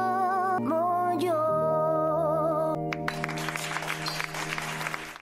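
A sustained musical chord rings out, then audience applause breaks out and continues as a dense, steady clatter of clapping before cutting off.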